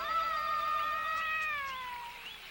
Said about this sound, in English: Got the cat?